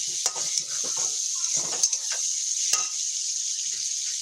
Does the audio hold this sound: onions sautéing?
yes